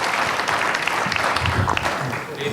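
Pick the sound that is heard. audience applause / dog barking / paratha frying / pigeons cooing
audience applause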